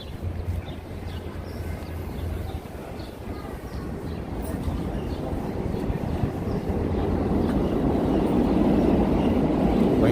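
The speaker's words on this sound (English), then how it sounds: "Subway train bound there," A New York City subway train near the 23rd Street station on Broadway rumbles beneath the street, a low steady roar that grows louder through the clip amid city background noise.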